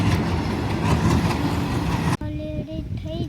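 Passing train roaring by on rails, loud and close, with rhythmic clickety-clack of wheels over rail joints that cuts off abruptly, leaving quieter ambience with a few faint tones.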